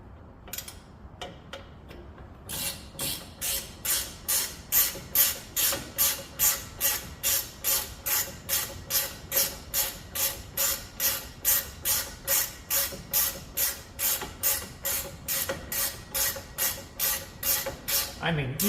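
Ratchet wrench tightening 10 mm tie rod bolts on a 2019 Ram 1500 Classic: a fast, even run of crisp clicks, loud and close, after a few scattered taps at the start.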